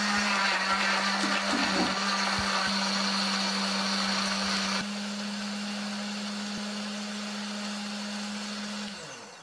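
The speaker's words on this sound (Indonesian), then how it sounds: "Tambahkan sedikit air supaya lebih gampang untuk menghaluskannya." An electric blender grinds chili, candlenut, shallot, garlic and tomato with a little water into a paste, a loud steady whir that drops in pitch midway and then runs on evenly before cutting off.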